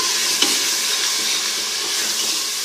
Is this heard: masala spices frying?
yes